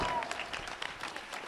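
At a large Islamic religious gathering, a crowd claps for the young people in a brief burst of scattered, moderately loud handclaps, with a voice heard underneath.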